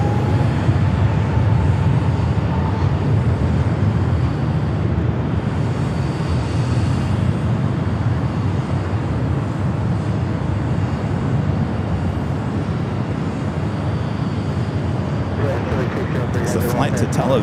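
LOT airliner in retro livery taking off from runway 25 right at LAX, a loud continuous engine roar that stays heavy and steady throughout, close and overwhelming.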